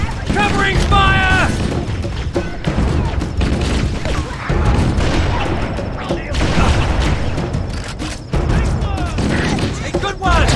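Rapid bursts of gunfire and booming blasts from the video game Halo CE rattle loudly and almost without pause, with voices shouting over the firefight.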